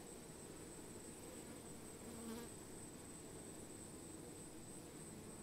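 Bees near blooming flowers give a steady, continuous buzz that stays fairly faint and even throughout, with no voices.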